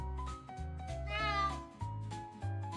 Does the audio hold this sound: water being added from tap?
no